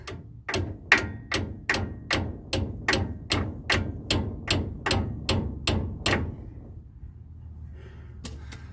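Steady hammer blows, about two a second, ring out close and loud against a truck's brake line, roughly a dozen strikes before stopping, with a couple of faint taps near the end.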